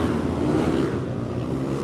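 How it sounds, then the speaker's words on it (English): Motorcycles passing along a busy Shibuya street in Tokyo, a brief steady engine drone over dense urban traffic noise, fairly loud with no clear speech. "there goes the motorcycles."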